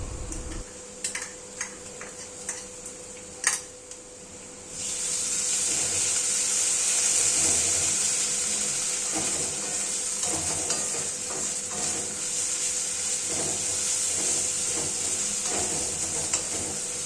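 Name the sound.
garlic and ginger paste frying with onions in a pan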